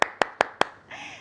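Four sharp, evenly spaced hand claps ring out close and loud, followed by a brief tonal sound, during a Thai motivational talk by a teacher as the audience celebrates reaching a share count.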